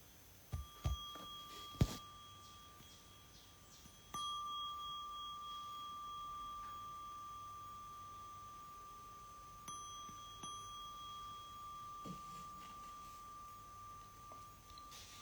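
A single meditation bell is struck, its clear ringing tone sustaining and slowly fading, then struck again with a long lingering resonance.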